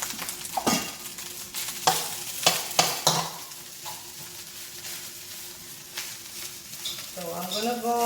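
Rice goes into a hot pan for fried rice and is stirred, giving scraping strokes over a soft sizzle. A voice speaks briefly near the end.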